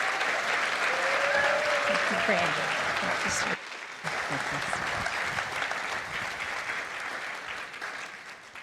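Warm audience applause welcoming a speaker, a sustained wash of clapping that dips briefly and then carries on, with a voice speaking over it near the start.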